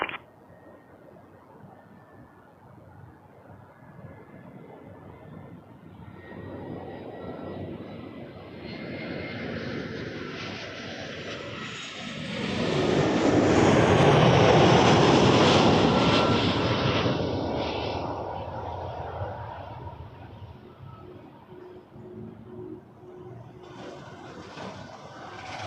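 An Envoy regional jet takes off from runway 05 at Toronto Pearson, its engine roar swelling from a distant rumble to a loud peak mid-way, then fading gradually as it climbs away.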